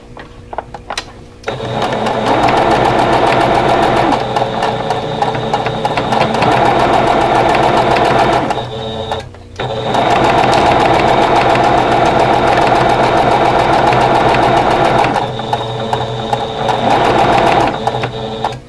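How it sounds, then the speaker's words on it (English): Sewing machine stitching a quilt block seam, loud rapid mechanical chatter in three long bursts separated by brief pauses, close up with no talking. "And then sew this seam."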